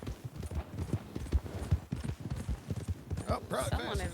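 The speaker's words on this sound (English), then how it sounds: "that's a fast horse" Fast horse hooves in a Red Dead Redemption 2 roleplay game, a rapid, regular clip-clop gallop running throughout, with a player talking over the hoofbeats near the end.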